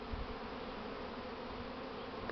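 Honey bees swarming out of a hive in a failed false swarm flight, a dense, steady buzzing hum of many bees close by, continuous and unbroken with no voices.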